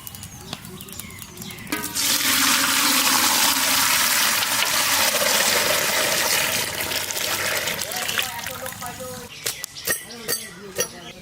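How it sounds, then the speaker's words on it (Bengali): Milk pours into a large pot for making payesh, a sweet rice pudding for a village feast, as a long, steady rushing splash that runs for several seconds before tapering off into a few scattered clinks and background noises. "গামলা চাপিয়ে দিয়েছি, ঢেলে দেবো দুধ।"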